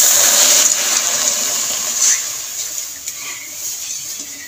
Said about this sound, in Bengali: এখন আমি কড়াইতে জল দিয়ে দিচ্ছি।